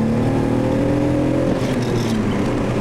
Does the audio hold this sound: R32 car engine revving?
yes